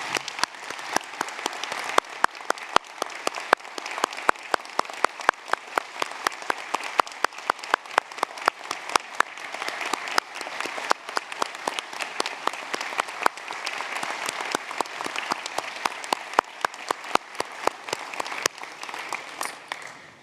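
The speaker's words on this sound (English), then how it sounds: "join me in applauding once more the wonderful achievement of these graduates" A large audience at a university graduation ceremony claps steadily and continuously, a dense, sustained applause with no talking.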